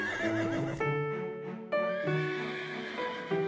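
Horse neighing sound effect: a series of loud, shrill whinnies with several sharp onsets, clear and close with no talk.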